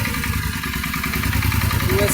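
A 2006-2014 Suzuki Marauder VZ800 motorcycle engine idles with a connecting rod knock, a steady close mid-loud rumble with a faint rhythmic tapping throughout.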